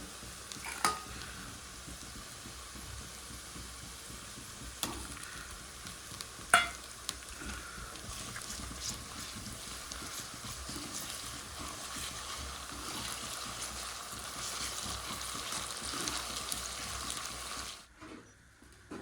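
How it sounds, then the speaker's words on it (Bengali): Onions fried until reddish-brown sizzle steadily in a pan as ginger-garlic paste goes in for a chicken and potato curry, with a few sharp utensil clinks and stirring before the sizzle cuts out near the end. "পেঁয়াজটা লাল লাল করে ভাজা হয়ে গেছে, এবার আদা রসুন বাটাটা দিয়ে দেবো।"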